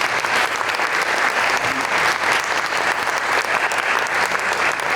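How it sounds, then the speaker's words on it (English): Sustained applause from an audience at a town budget workshop in Newport, clapping steadily and fairly close for the full span without letting up. "could we please give a round of applause to both Lyle and Stephanie?"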